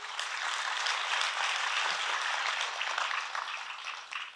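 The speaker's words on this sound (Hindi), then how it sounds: "ताली बजाइए अपने लिए।" A congregation at a spiritual gathering claps together in a sustained, even round of applause lasting a few seconds, fading slightly at the end.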